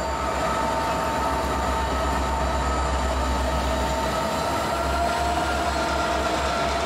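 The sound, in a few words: Norfolk Southern freight train NS 152 with EMD locomotives passing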